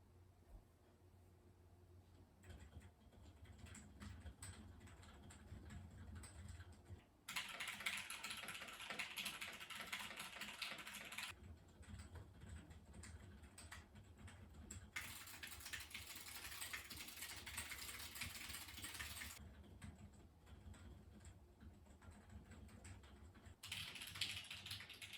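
Mechanical keyboard typing in rapid bursts of clicky keystrokes, alternating with quieter stretches of lighter tapping, close and steady throughout with no talking.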